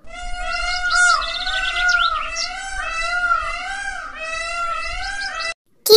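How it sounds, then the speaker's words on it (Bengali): A peacock giving a loud, continuous run of high, wailing calls that rise and fall over several seconds, close and clear, before cutting off abruptly. "P for peacock."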